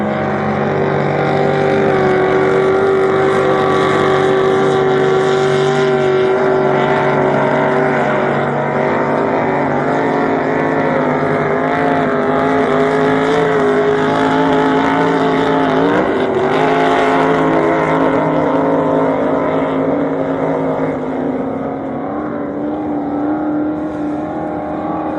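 Racing powerboats at a regatta on the water at Windsor, Taree or Lake Macquarie, a continuous loud engine roar that holds steady throughout with a slight dip in pitch partway through, no voices.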